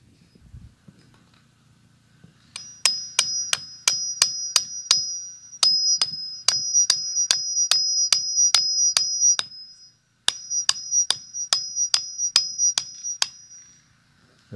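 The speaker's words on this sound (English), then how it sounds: "we're going to pound another piece of rebar into it" A hammer pounds rebar into a wooden 2x4, about twenty sharp ringing metallic strikes in a steady rhythm, close and loud, with one short pause partway through.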